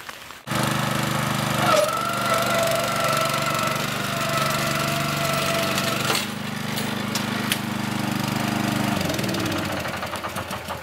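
Lawn aerator machine pulling soil plugs from a lawn, its engine droning loud and steady close by with a rough mechanical chug, shifting pitch midway and tapering off near the end, no talking.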